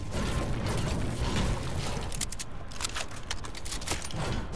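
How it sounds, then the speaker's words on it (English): Fortnite SMG weapon upgrade effect, a continuous mechanical ratcheting and clicking with metallic gear-like clatter that runs steadily for several seconds at fairly loud level. "I like upgrading the SMG."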